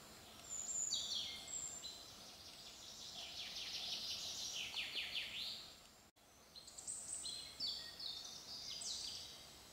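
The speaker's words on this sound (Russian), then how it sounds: "Но вы послушайте, как птицы заливаются." Birds sing in a summer forest in the Kuban, repeated bright trilling phrases rising and falling, fairly clear over a quiet background, with a brief break midway.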